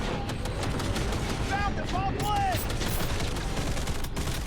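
Rapid, continuous turret fire in Cyberpunk 2077 rattles steadily throughout, dense and sustained, with brief warbling electronic tones partway through.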